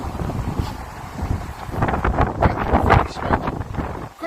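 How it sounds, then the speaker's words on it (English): Strong wind gusting across an open outdoor site, a loud, steady roar with rushing swells that buffet the microphone throughout, no voices. "Goodness me, the wind has picked up."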